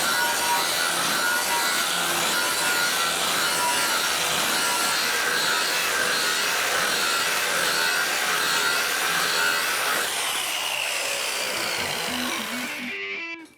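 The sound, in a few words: grinding the resin-finished back of a bathroom wall panel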